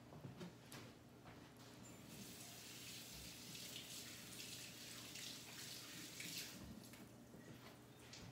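A kitchen sink tap runs steadily while hands are rinsed, a faint, continuous splashing hiss with small shifts as the water stream is broken.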